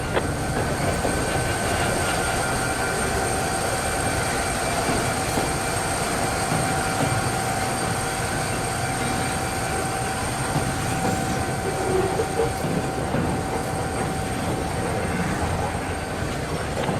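A Union Pacific genset locomotive, number 2707, running on an HO scale model railroad club layout in a BN yard, giving a steady continuous mechanical hum with light rail rumble and faint squeals throughout.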